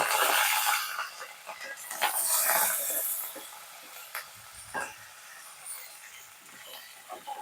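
Onions, green chillies and carrot hissing and sizzling in a hot pan while an upma-style tiffin is cooked, a steady broadband fry noise with a few sharp crackles and light clinks, fairly close.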